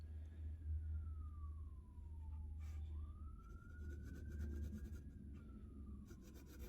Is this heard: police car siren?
yes